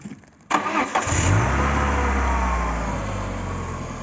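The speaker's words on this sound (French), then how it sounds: "Il y a le moteur qui tourne" A Citroën Xsara VTS (167 hp) engine catches after a short starter crank and then settles into a steady, full-bodied idle, close and continuous with no talking.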